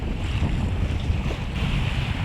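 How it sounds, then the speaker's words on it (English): Big ocean swells rolling in while a sailboat approaches the harbor of Muxia in Spain, a steady loud wash of surf and water mixed with strong wind buffeting the microphone, continuous with no talk. "Pretty big swells coming in here today."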